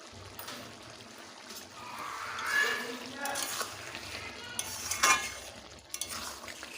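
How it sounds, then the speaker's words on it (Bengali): Soybean and potato curry is stirred in a pan, producing irregular scraping and clinking strokes over a faint, wet sizzle, fairly quiet overall. "নেড়ে চেড়ে নামিয়ে নেব"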